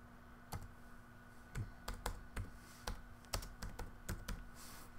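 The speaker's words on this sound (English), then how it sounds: "Let's just type out mirror text." Fingers type on a computer keyboard, entering capital-letter text in Photoshop, with quiet, irregular keystroke clicks, some in quick bursts, heard close up with no talking.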